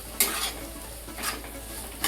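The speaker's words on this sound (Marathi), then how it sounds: "तर मी आता ह्याच्यामध्ये रवा घालते आणि छान असं खरपूस" Soft sizzling and stirring of semolina dry roasting in hot ghee in a wok, with a few scraping strokes of a utensil against the pan.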